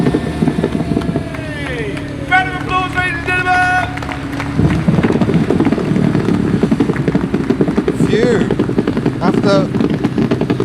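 A revving Triumph straight-six car engine roars loudly and close at a classic car show, its pitch rising and falling, while people chatter nearby.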